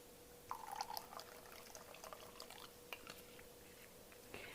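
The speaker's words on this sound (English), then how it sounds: "Okay, now we're just going to add in some tamari." Tamari, a gluten-free soy sauce, is poured as a quiet trickle of liquid splashing close by, with soft gurgles and a few drips over a faint steady background hum.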